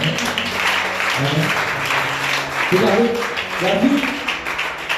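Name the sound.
church congregation applause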